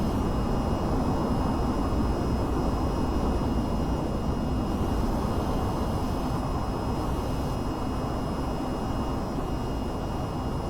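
Aircraft in the flight game VTOL VR lifting off vertically, a steady, loud jet-engine roar with broad rushing noise and faint high whine, continuous throughout with no talking.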